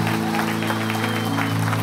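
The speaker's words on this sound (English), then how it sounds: "Now clap your hands if you believe what you just said." A church congregation claps hands together in a dense, continuous burst of applause, with voices and sustained music tones running beneath the clapping.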